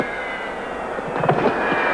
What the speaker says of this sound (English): his absolutely unbelievable jet-powered semi-tractor truck